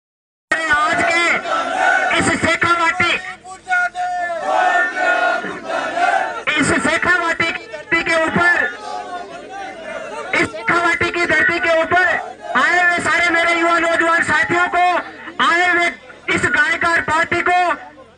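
A large crowd at a political rally in Udaipurwati, Rajasthan, roars and cheers loudly in repeated surges with brief pauses between them, loud and close throughout.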